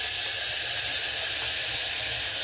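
Meat hits hot oil flavored with a cumin tempering, producing a loud, continuous, close hiss of steam and sizzle that holds steady from start to finish with no voices.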